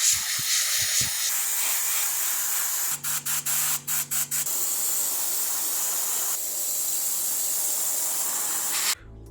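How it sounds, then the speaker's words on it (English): An airbrush sprays purple base paint onto a Ghostfreak Halloween costume piece in a sustained close hiss, broken by a short run of quick on-off bursts partway through before the spray resumes and cuts off. "I use an airbrush to apply a purple base"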